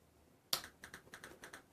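An onboard speaker in a Dash Electronics DM4 dashboard unit ticks out relay-like clicks: one sharp snap followed by a quick, regular run of faint, crisp clicks.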